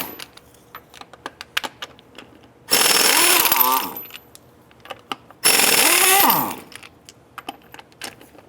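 A ratchet with a 3/4 inch socket spins off the wheel of a 2005-10 Jeep Grand Cherokee: two loud sustained bursts of rapid mechanical buzzing, each over a second long, separated by scattered clicks and taps nearby.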